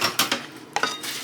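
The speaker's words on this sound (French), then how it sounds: "Et je remue." A spoon stirring sauce with crème fraîche and tomato paste in a pot, a few short clinks and scrapes against the metal, close and brief.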